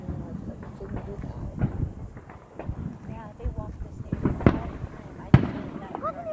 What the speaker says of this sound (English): fireworks going.